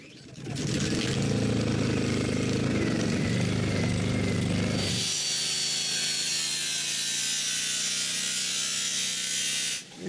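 A power saw cuts through old, dirty wooden door cores at a cottage, a loud continuous buzzing grind whose pitch shifts partway through as the blade bites in, running steadily alone for about ten seconds.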